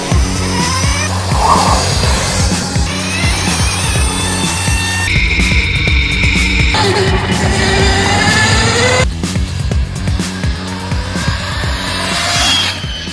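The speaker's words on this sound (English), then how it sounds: "That competition consists of us designing, building, and racing an open-wheel race car such as this one." An electric open-wheel Formula SAE race car drives past with a loud, shifting whine of motor and tires, rising and falling tones over steady road noise throughout.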